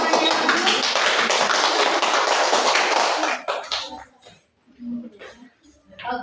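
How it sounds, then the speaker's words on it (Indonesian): Classmates in a classroom lecture session applaud a student with loud, dense clapping for about three seconds, then it tails off into a few scattered claps and quiet room sounds. "Beri aplaus dulu kepada temannya."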